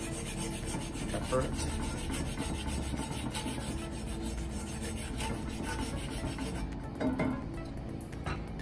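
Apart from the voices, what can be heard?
scrubbing egg residue off a Lodge cast iron skillet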